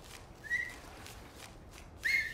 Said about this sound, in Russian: А я могу свистеть.